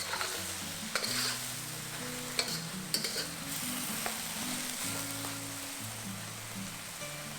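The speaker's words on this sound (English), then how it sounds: "add in the green parts of the spring onion and give it a quick toss" Beef and green spring onion parts stir-fried in a hot pan, a continuous hiss of sizzling with a few sharp tossing and spatula clacks, over soft background music.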